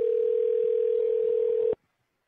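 A call-in show's phone line gives a single steady electronic tone, loud and even for nearly two seconds before cutting off abruptly into silence.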